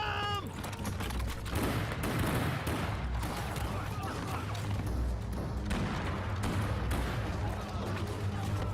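A dense, continuous volley of gunfire in the war game Kingdom of War, many overlapping shots and thuds blending into a loud, rumbling barrage.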